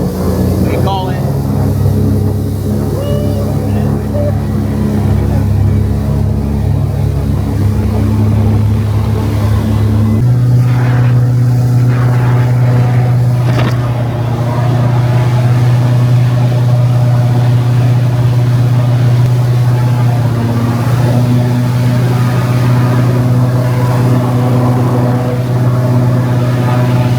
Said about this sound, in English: This boat is loud.